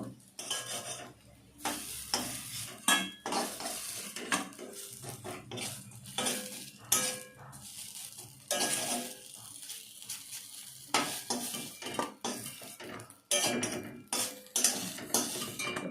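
Masoor dal fritters sizzle in hot oil while a utensil scrapes and stirs the pan, with repeated clinking metallic strokes as they are turned and lifted out, close and without talk.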